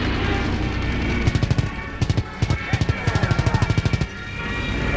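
Rapid automatic gunfire from a Call of Duty WWII battle at the Bulge: several bursts of fast, evenly spaced shots over a dense wartime din, loud and close.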